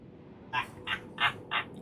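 Four short, nasal duck quacks from a video game come in an even rhythm, fairly close and clear over a low background hum.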